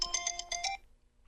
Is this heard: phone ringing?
yes